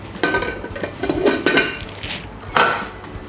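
A metal lid clanks onto a cooking pot of palm nut soup, with a few close, sharp clinks and scrapes of metal against metal followed by one louder clatter near the end.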